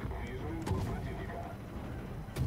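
Naval guns in a warship video game firing at a Farragut destroyer: a couple of booming shots, one early and one near the end, over a low continuous rumble of engine and sea, no talking.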